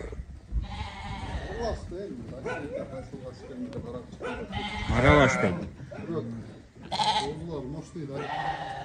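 Lambs and ewes bleat in a livestock pen, several loud close calls overlapping with someone talking, plus a dog barking briefly.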